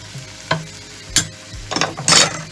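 Beaten eggs are poured into a hot oiled pan of broccoli, spinach and tomato for a frittata, giving close bursts of crackling sizzle and stirring scrapes in quick uneven pulses.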